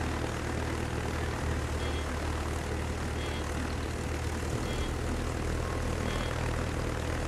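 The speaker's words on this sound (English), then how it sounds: "I go ahead and set an extra fighter plane there." A fighter plane in a naval battle video game gives off a steady, droning propeller engine hum that holds at an even level throughout, with no talking over it.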